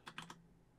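Three quick, light keystrokes on a computer keyboard, evenly spaced and faint, then quiet.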